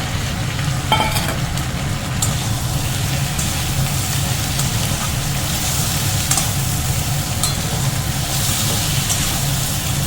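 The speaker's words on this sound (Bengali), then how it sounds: "আর ভেজে রাখা চিংড়ি মাছটা দিয়ে একসঙ্গে কষাবো" Fried prawns stirred together with potato and pointed gourd in a pan, a dense continuous sizzle and low rumble with occasional faint clicks of a utensil, steady and close, no voices.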